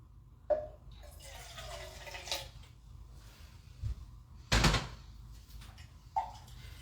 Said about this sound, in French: moi j'aime bien rincer mes boîtes de conserve